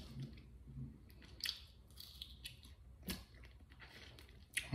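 Chewing on Zaxby's buffalo garlic chicken wings, close and intimate: irregular wet bites and crunchy mastication with brief sharp clicks, no talking.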